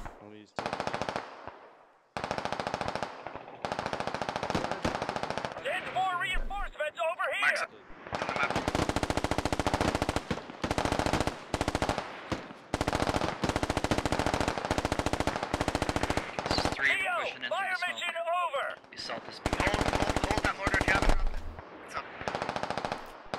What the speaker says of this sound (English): All right, we got the mortars coming in.